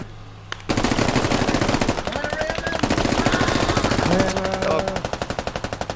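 Rifle and machine-gun fire from the video game Squad crackles in fast, rhythmic automatic bursts, loud and close, starting abruptly after a brief quieter moment, with some faint voice chatter under the shots.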